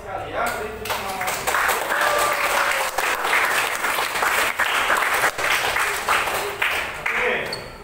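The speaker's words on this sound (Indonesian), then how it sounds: "Beri tepuk tangan." A class of students applauds after a teacher praises their clean classroom. The clapping is lively and continuous for several seconds, fairly loud, with scattered individual claps standing out before it fades.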